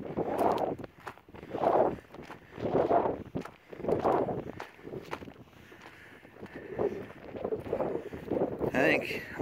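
Strong wind gusts buffet the microphone over an open farm field planted with cover crops, coming in rhythmic bursts of low rumbling noise, with a voice talking partway through.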